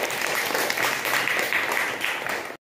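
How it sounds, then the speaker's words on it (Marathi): A group gives a round of applause for a student named Kasturi, with steady, dense clapping of moderate loudness that holds for a couple of seconds and then cuts off abruptly. "कस्तुरीसाठी सर्वांनी टाळ्या वाजवा"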